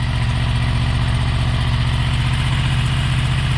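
A Honda VFR800 VTEC V4 motorcycle engine with its standard exhaust idling steadily, a smooth even low throb with constant rhythm, close and alone with no talk.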